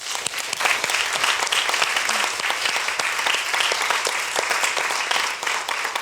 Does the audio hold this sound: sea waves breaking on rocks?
no